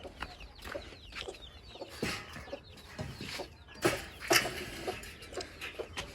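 Scattered hen clucks, short and irregular, with a few louder squawks standing out against a quiet farmyard background; no talking.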